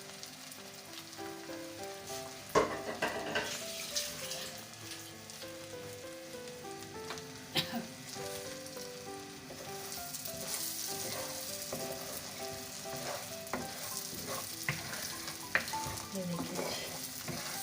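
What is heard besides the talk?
brain masala (bheja fry) frying in a pan with eggs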